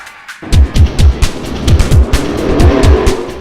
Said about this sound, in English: your King of the West 410 Sprint Car Series on parade at the Antioch Speedway